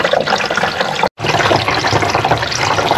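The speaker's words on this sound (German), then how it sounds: "befüllt jetzt einen Wassertank" A water pump hose fills a water tank with a loud, close, steady rush of pouring water that cuts out for a split second and then resumes just as strongly.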